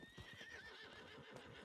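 A horse in a video game neighs with a wavering high whinny over soft, rhythmic clip-clop hoofbeats, heard faintly and without talk.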